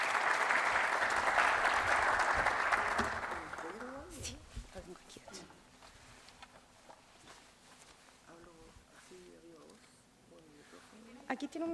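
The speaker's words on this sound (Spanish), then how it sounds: "Un aplauso aquí al expositor." Seminar audience on water resource management applauding the speaker, a full round of clapping for about four seconds that fades out, followed by footsteps, shuffling and people talking quietly in the room.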